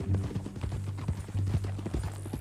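A horse's hooves clip-clop at a walk in the Western video game Red Dead Redemption 2. Soft, irregular thuds sound fairly close and moderately quiet over a low steady hum.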